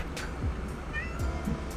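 Indoor cat meowing softly and briefly, a few faint short calls amid low background noise and room hum.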